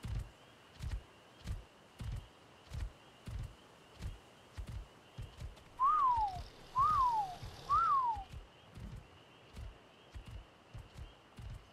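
Three rising-then-falling whistle calls from the ARK: Survival Evolved whistle command on The Island, evenly spaced over steady rhythmic thudding footsteps, moderately loud and clear.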